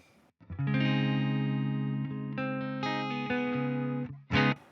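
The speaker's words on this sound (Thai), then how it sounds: "สมมติถ้าเกิดว่าผมปิดเกณฑ์เลยเสียงที่ได้นะฮะ" Electric guitar through the MLC Sub Zero amp plugin with gain off, a clean sustained chord ringing out, shifting to a second voicing, then a brief sharp strum near the end after a short gap.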